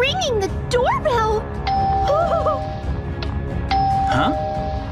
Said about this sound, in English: It's ringing the doorbell.